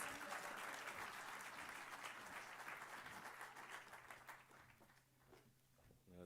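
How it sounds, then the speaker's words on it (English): Audience applause at a nuclear seminar as a minister walks onto the stage, dense clapping that holds steady and then thins out and fades near the end. "please give him a round of applause as he walks"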